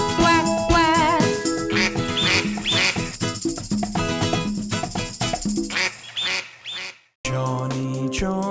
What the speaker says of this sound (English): he led the others with the quack, quack, quack